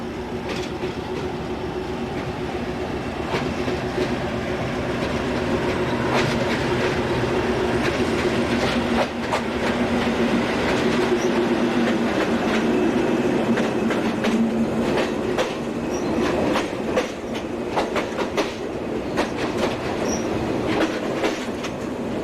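Portuguese class 1800 diesel locomotive 1803 shunting at Tunes: a steady diesel rumble with rolling wagons, clickety-clack wheel beats and a long wheel squeal, loud and continuous throughout.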